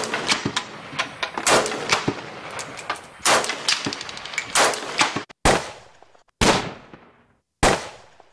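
Gunshot sound effects play in a phone video editor as a series of loud, sharp bangs, first in quick clusters, then three separate shots with ringing tails and short silences between.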